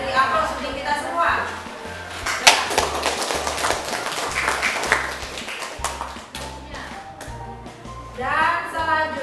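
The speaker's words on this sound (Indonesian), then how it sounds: "Ibu beri aplaus untuk kita semua" Students in a classroom clap together after a group presentation, a rapid, fairly close patter of hands that rises and fades, with a teacher's voice heard before and after.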